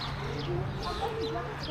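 Birds in a zoo aviary, short chirps and calls scattered over a steady murmur of background noise, with people talking nearby over them.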